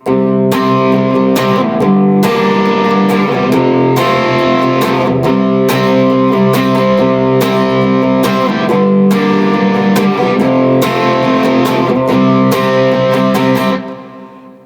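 Distorted electric guitar chords ring out in a steady rhythmic pattern, thick and sustained, with regular strummed accents before fading at the end.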